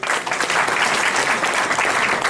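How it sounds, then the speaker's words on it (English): A seminar audience of faculty and students applauds steadily and loudly, a dense wash of clapping that holds for a couple of seconds with no voices over it. "Let us give a big, very big round of applause to our participants"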